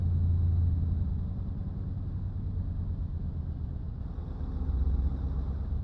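A truck engine idles in Euro Truck Simulator 2, a steady low rumble that holds at an even level for several seconds with no voices over it.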